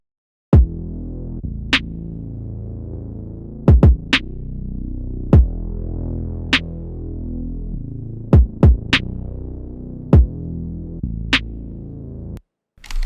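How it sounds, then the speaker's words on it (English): Growling synth bass from Analog Lab droning steadily under a boom bap beat, with crisp drum hits scattered on top and a pronounced snare, ending in a brief cut before the beat returns. "I supplemented it using the growling bass from Analog Lab"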